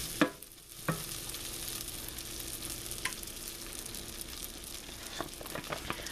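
Rice frying in butter gives off a soft, steady sizzle, broken by a few scraping stir strokes near the start and scattered clicks, with no one talking.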